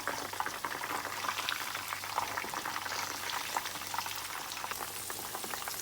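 Chicken drumsticks fry in a pan with oil, a steady close crackling sizzle running evenly throughout at a low level.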